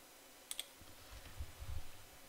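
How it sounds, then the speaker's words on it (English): A few quick keyboard key clicks from typing into a QGIS search box on a computer, faint against steady room noise, with no voices. "So we click in here and start typing red."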